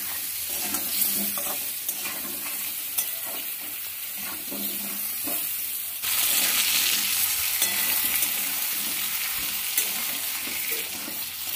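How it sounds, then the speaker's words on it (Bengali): Potatoes seasoned with turmeric and salt are stirred and fried in a pan for a Bengali rohu fish curry, giving a steady close sizzle with scraping stirs throughout that grows louder near the middle. "আলুটা একটু ভেজে নিলাম।"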